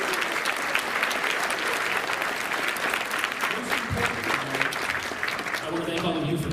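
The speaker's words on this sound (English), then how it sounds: "A special round of applause for him" A crowd at a university debate event at the Ashland Center fills the room with dense, continuous applause, loud and sustained throughout with no break.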